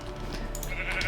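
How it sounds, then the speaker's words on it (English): Sheep bleating in Minecraft alpha 1.1.2_01, a short wavering bleat over a steady background hum. "Ooh, sheep."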